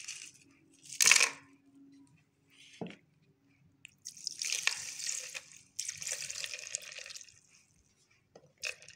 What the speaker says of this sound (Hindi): और अब मैं इसके अंदर आइस क्यूब्स डाल रही हूँ।